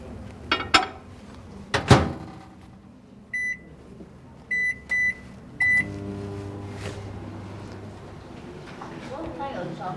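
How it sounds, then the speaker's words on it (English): A microwave oven heating premium chocolate for melting: door clunks and several sharp electronic beeps from the keypad, then a steady low hum as it runs, with voices talking at the start. "let me melt it in the microwave for about 20 seconds first"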